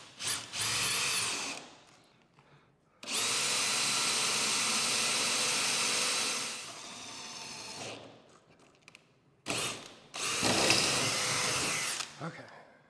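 A power drill bores into a trailer floor in loud bursts: a short run, a longer whining stretch that fades out, then two more bursts separated by quiet gaps.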